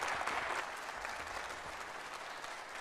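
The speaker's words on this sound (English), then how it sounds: "give him a round of applause" Audience applause at a sportsmen's banquet, a brief stronger burst of clapping that settles into a steady, moderately quiet patter from the room.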